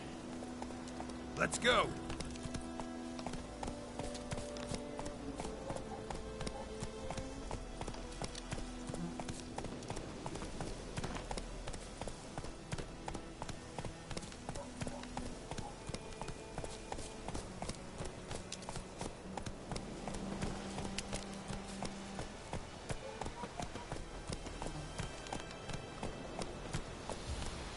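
Galloping hooves of Roach, the horse in The Witcher video game, drum in a steady clip-clop rhythm beneath constant game music and ambience, with a voice speaking briefly over them.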